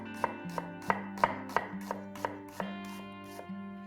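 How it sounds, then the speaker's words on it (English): A knife chops a red onion on a board in about a dozen crisp, evenly spaced taps, close and clear, while a sustained tonal background hum plays underneath. "cutting a red onion"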